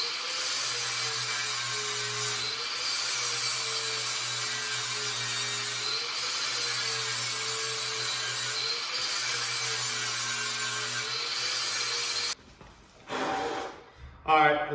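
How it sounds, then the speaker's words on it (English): Wire wheel and flap wheel grinding down welds on a Jeep frame, a loud, steady high-pitched whir with faint periodic dips, breaking off near the end into short clattering bursts. "We'll go ahead and wire wheel it and flap wheel it just to kind of take it down so the welds aren't"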